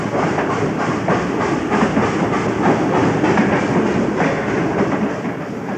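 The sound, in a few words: Southern Pacific Daylight steam locomotive train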